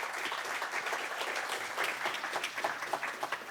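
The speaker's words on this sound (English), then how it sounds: "Let's give them a big round of applause again." Audience applause for two guests at a panel discussion on Afro-European relations, a steady crackle of many hands clapping throughout, fairly distant and even, thinning slightly toward the end.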